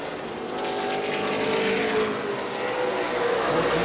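Race cars roar around New Smyrna Speedway during a battle for third, a steady broadband engine drone with shifting pitch as the field passes, loud and continuous with no talk.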